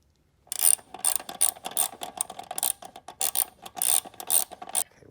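Ratcheting wrench loosely snugging seat bolts on an early-1980s VW Vanagon Westfalia during seat reupholstery, a quick series of close, crisp metallic clicks in short bursts.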